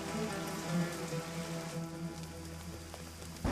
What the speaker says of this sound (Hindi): हमारे यहाँ की बारिश बड़ी जालिम होती है।